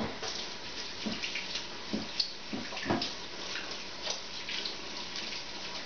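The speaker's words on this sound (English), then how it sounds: "Let me wash my hands off." Hands being washed under a running kitchen tap while making bread, a steady faint stream of water with soft splashing bursts, no talking.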